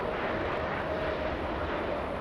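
Two airliners, an Aer Lingus jet and a China Southern jet, at Los Angeles airport produce a steady, broad engine roar that holds at an even level throughout.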